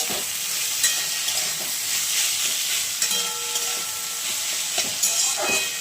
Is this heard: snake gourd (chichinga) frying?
yes